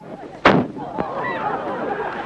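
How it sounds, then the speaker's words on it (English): A single cannon blast fires to open an outdoor curling match on a frozen loch at the 1979 Grand Match, a sharp loud boom that quickly fades, followed by a smaller thud over a low background murmur. "Then they waiting for the cannon."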